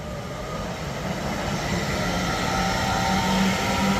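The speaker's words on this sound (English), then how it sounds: "departing now is a class 807 with a nice two-tone" Class 807 train departing Rugby station on the West Coast Main Line, heard as a steady, broad rolling rumble with faint tonal whine, building slightly as it pulls away; no horn stands out.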